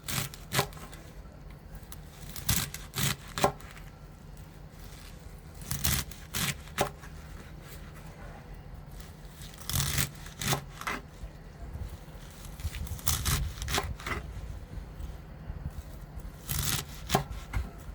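Knife chopping purslane stems on a cutting board for a Turkish purslane dish: repeated sharp crisp cuts in short bursts, close and fairly loud, alone with no talk.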